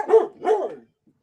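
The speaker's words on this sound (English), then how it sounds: "I can't talk over the dog" A dog barks twice in quick succession, close and fairly loud, during a live online chat. Silence follows.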